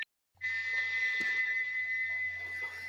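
A loud, sustained model steam locomotive whistle shrieks continuously at a steady high pitch after a brief silence, with a low rumble beneath.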